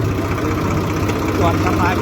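A tractor engine runs with a steady, close, low throbbing pulse, heard while the tractor is driven near the Orsang river at Bodeli.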